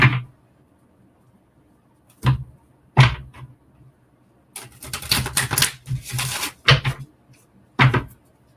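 Tarot cards are handled and shuffled in bursts, with sharp riffling snaps and slaps against a surface, broken up by short pauses.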